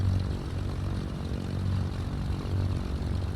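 A Cessna 310R twin-engine piston plane idles in Flight Simulator 2020 after start-up, its propeller engine droning low and steady with a slight pulsing throb, loud and continuous with no voices.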